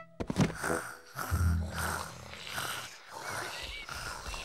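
A voice imitates a cat's purr, a low rumbling rolled sound repeated in a few long breaths, close and fairly loud.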